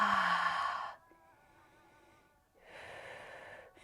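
Slow, deep yoga breaths are heard up close, beginning with a long loud exhale that falls quiet, then a softer breath rising again, with no talking.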